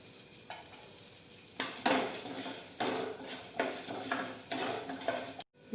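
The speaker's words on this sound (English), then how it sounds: "cashew nuts, cumin seeds and peppercorns are nicely tossed in the ghee" Cashew nuts, cumin seeds and peppercorns tossed in hot ghee in a pan for South Indian ven pongal, a soft sizzle under repeated loud bursts of stirring and metal scraping, close up with no speech.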